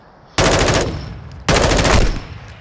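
Two loud bursts of automatic gunfire in Call of Duty: Resurgence on Ashika Island, each a dense rapid rattle lasting about half a second to a second, close and prominent with no talk over them.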